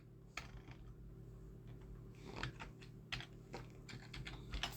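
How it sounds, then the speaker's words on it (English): Computer keyboard typing while entering values into an F# payroll program, a steady run of close, crisp key clicks with a few louder strokes, no voices. "I type a value for the hourly salary"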